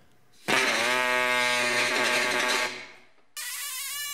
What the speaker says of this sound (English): I then remembered I had a Chicago Pneumatics reciprocating air saw that I got ages ago.